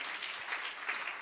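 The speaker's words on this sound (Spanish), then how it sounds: "Un aplauso para ellos también." A church congregation claps steadily, a dense burst of many hands close and continuous, with no voices over it.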